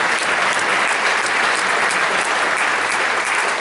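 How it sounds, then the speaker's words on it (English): Sustained applause from a symphonic band pops concert audience, cheering for the drummer; dense, steady clapping filling the room at a constant level throughout, with no talk over it. "cheer for that drummer"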